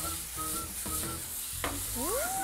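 Spinach stir-fried with pork in a pan for a Thai-style pork rice bowl, a close, continuous sizzle with scraping from stirring, and a brief squeak of the utensil near the end.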